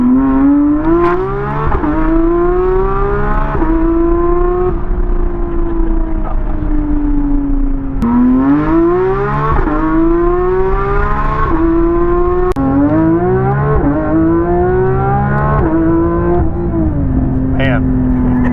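A 2025 Ford Mustang GTD or Porsche GT3 RS race car drives close by, loud and continuous, with repeated rising engine sweeps between gear changes.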